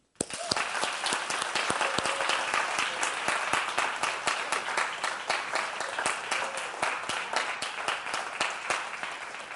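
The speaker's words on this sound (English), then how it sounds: "Give you a hand clap." A church congregation claps in a steady, rhythmic hand clap, crisp individual claps repeating evenly for several seconds at moderate volume after an abrupt start.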